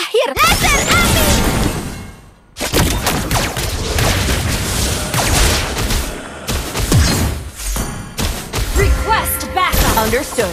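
Layla's fire laser skill in the Mobile Legends mobile game fires amid loud, continuous battle effects, with booming blasts, rapid gunfire-like bursts and whooshes crowding together almost without pause.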